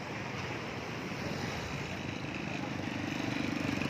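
Rough waves churning at a ferry port between San Pascual and Pasacao, a continuous roaring wash of surf mixed with wind buffeting the microphone, steady and fairly loud throughout.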